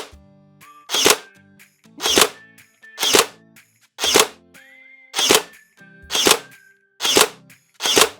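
An airsoft gun fires shots at a steady pace of about one per second, each a sharp, loud crack followed by a short ring. Eight shots are heard, with no talking between them.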